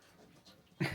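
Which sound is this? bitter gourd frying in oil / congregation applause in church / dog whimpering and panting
dog whimpering and panting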